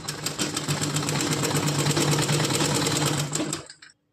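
An electric sewing machine runs close and loud, stitching a frock for a small Laddu Gopal deity figure in a rapid, even mechanical whir for several seconds, then stops abruptly.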